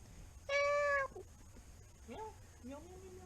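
A cat meows once, a clear drawn-out cry, with faint soft voices murmuring afterward in a quiet room.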